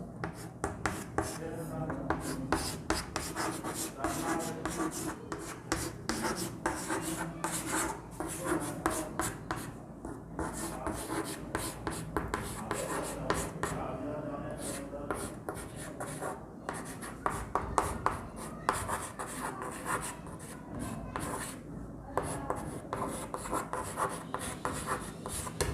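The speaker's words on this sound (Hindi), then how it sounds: "तो मैं लिख देता हूँ" Chalk or marker writing on a board during a history lecture, a continuous close scratching and rubbing with dense strokes, sounding alone without talk.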